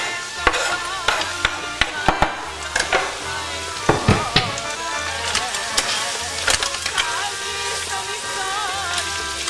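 Roughly minced garlic sizzles in a pan for a traditional Macedonian flour soup, a soft crackling hiss broken by sharp clinks and scrapes of stirring, close and fairly loud.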